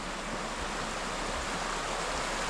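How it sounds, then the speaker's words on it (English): A river flowing past a campsite with firewood on hand, heard as a steady, continuous rush of moving water that fills the whole stretch without pause or talk. "But this is what sold me on this spot, is the river."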